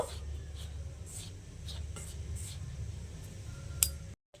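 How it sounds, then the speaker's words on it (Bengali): Hand mixing salt into steamed rice flour for chitoi pitha, soft gritty scraping and rubbing with faint clinks of a bowl, quiet and close, ending in a brief sharp tap before silence. "নুনটা দিয়ে এবারে চালের গুঁড়িটার সঙ্গে নুনটা খুব ভালোভাবে প্রথমে মিশিয়ে নেব"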